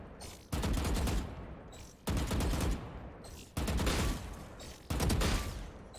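Gunfire from the first-person shooter game Valorant, sounding as four loud, sustained bursts of rapid shots, each lasting about a second with short pauses between them, and no talking.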